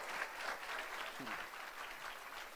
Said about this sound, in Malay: Beri satu tepukan kepada untuk MW.